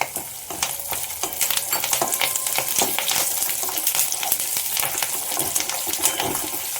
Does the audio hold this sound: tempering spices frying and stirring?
yes